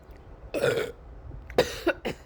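After gulping beer, a man produces a few short, wet-sounding burps in quick succession, close and fairly loud against a quiet background.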